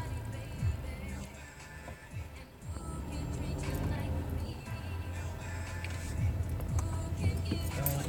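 Inside a car: a low, steady road and engine rumble with faint ticks and small thumps, continuous throughout, while a voice talks intermittently over it.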